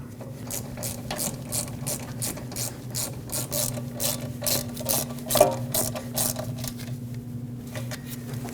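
A ratchet tightens the rear brake caliper slider pins on a 2013-2019 Ford Escape, with close, rapid clicking strokes repeating steadily in short bursts and no talking.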